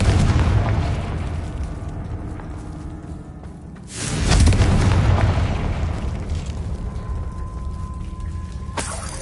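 Bombarda and Confringo spells explode in Hogwarts Legacy, a loud continuous roar of blasts with a big boom about midway, rumbling on through the clip.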